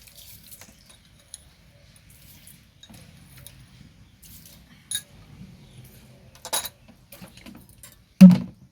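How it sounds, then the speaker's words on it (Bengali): Sugar being stirred in hot mustard oil in a wok gives sparse, quiet metallic clinks and scrapes, with a few sharper knocks against the pan amid near silence. "চিনিটাকে কিছুক্ষণ আমি নাড়াচাড়া করে নেব।"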